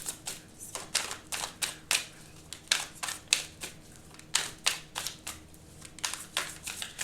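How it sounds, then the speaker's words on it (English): Tarot cards are shuffled by hand up close, a run of quick, crisp riffling bursts repeating in an uneven rhythm, with no talking. "I'm gonna shuffle them again."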